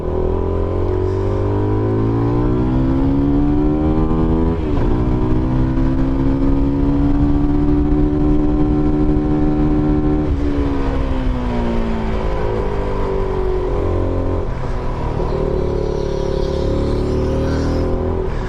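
An SBM 250S motorcycle engine idling and revving with a low, muffled exhaust tone, steady and close, rising and settling over several seconds.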